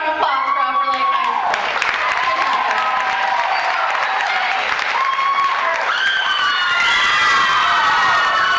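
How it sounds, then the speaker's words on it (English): Loud applause and cheering from an audience at an Academic Decathlon event honoring Upper Lake High School, with whoops, shouts and steady clapping sustained throughout and rising toward the end. "Big round of applause for Upper Lake High"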